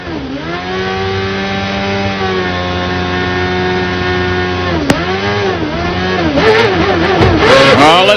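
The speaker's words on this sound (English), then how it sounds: "Oh, listen to that engine as Vassar comes away." CART race car pulling away from the pit lane at the Marlboro Grand Prix of Miami, its loud, high-pitched engine climbing in pitch, briefly dipping at a gear change, then screaming louder as it speeds off.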